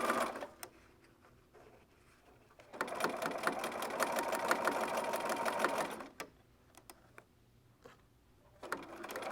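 A sewing machine runs a quarter inch seam along a narrow quilt border, a steady fast mechanical whir in a burst of about three seconds, with brief needle taps before and after, close and fairly quiet.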